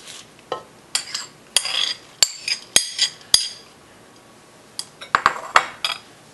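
A utensil clinks and scrapes against a dish while spinach, quinoa and sauce are mixed together, giving a series of sharp, close taps in two bursts with a quiet pause between them.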